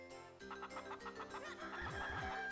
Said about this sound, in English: My cuckoos have gotten out.